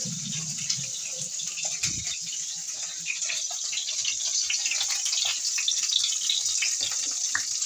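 Water runs steadily from a kitchen tap while hands are washed, a continuous close hiss and splash with small bumps and clinks early on, no talking.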